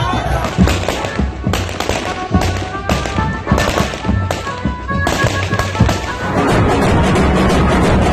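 Fireworks burst at a grand welcome for a newly married couple in Jamnagar, with rapid cracks and bangs in dense irregular volleys, loud and close, over crowd voices and a rising continuous roar at the end.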